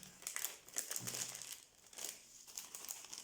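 Paper crinkling and rustling as a handmade shaker card is opened, close and fairly quiet, with bursts of crisp crackle coming and going over a few seconds and no talking.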